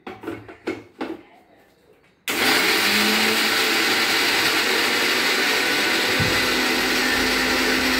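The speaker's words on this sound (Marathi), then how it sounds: "आता हे सगळं मिक्सरमधनं बारीक करून घेते मी" Kitchen mixer grinder whirring steadily at high speed as it grinds a spice masala for stuffed brinjal, starting abruptly after a few soft knocks and running loud and continuous to the end.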